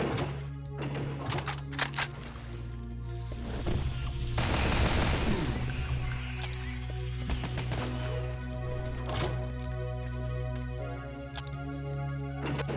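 Rapid bursts of pistol fire in the game Brutal Doom, sharp repeated shots in clusters with a dense stretch of overlapping gunfire in the middle, loud and close with no talk.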